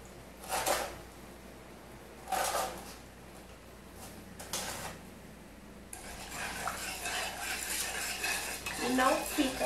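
A metal spoon clinks against a cup or bowl while sugar is added, three short separate taps, then a busier stretch of scraping and clattering dishes close by.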